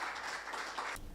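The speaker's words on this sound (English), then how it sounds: "I do believe they deserve another round of applause for their hard work." A short burst of applause at a post-Cabinet press briefing, a crowd clapping steadily at moderate distance and fairly faint, cutting off abruptly after about a second.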